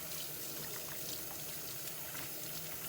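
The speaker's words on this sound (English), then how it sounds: "so let's wash the hands, always very important" Hands being washed under a running kitchen tap before mixing a snack, a steady close hiss of flowing water with faint splashing throughout and no talk.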